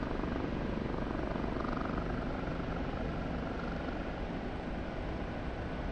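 OH-58D Kiowa helicopter in flight in the DCS combat flight simulator, a steady, dense rotor and turbine roar that fills the scene without pause.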